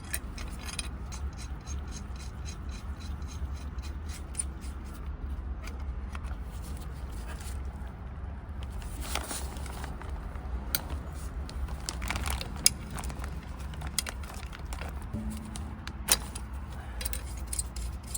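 A combination wrench works the nuts off the turbo studs on a Honda Vamos during a turbo replacement, giving steady close metallic scraping, rasping and light clinking with a constant low background hum throughout.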